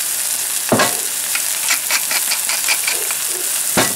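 Cod fillet searing in a hot pan, a bright steady sizzle throughout with a couple of sharp clatters of the pan or utensil punctuating it; no one talks.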